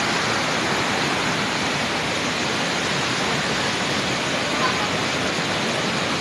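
Floodwater pours strongly over a waterfall at Lemery, Iloilo: a loud, unbroken rushing roar with a steady hiss and no pauses, close and filling the whole scene.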